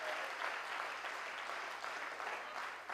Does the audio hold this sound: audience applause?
yes